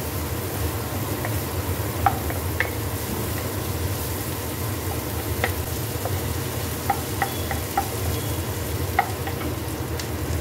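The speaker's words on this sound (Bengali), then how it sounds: "পেঁয়াজটাও হালকা একটু ভাজা ভাজা করে নেবো" One medium chopped onion frying lightly in a pan for egg fried rice, a continuous close sizzle with occasional sharp clicks of a utensil against the pan, no one speaking.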